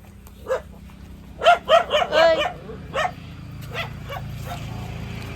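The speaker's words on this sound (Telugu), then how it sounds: "కుక్క చూడండి" A dog barks several times in quick succession, then a few more scattered barks follow at moderate distance.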